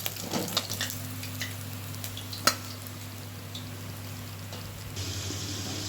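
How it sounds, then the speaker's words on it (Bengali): Fish heads fry in hot oil in a pan, a steady close sizzle running throughout with a few sharp pops and brief clinks of a utensil. "আরও দুটি মাছের মাথা যতক্ষণ ভাজা হচ্ছে"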